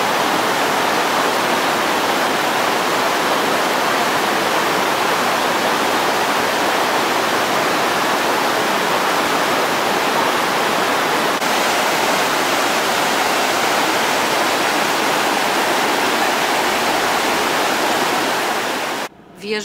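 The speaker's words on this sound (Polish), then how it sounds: "Górna część wodospadu," Latefossen waterfall in Norway roaring close by, a loud, dense and unbroken rush of falling water that fills the whole stretch and cuts off abruptly at the very end.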